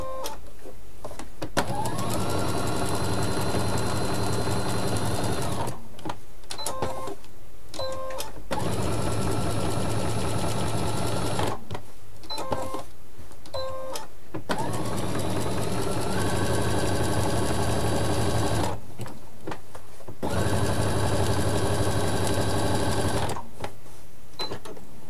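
A sewing machine stitches a multicoloured fabric appliqué in close, loud bursts of rapid whirring, separated by brief pauses as the fabric is repositioned.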